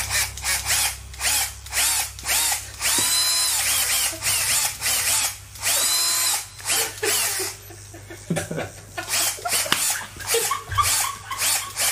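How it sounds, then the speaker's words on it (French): A power drill whirs in repeated short bursts on a TV game show set, loud and close, with a dog barking among the bursts. "même avec une perceuse"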